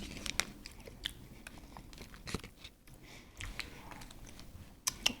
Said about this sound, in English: And then you get the crunch, obviously, again from the bottom there.